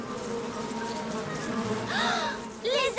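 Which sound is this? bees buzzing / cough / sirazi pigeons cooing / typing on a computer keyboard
bees buzzing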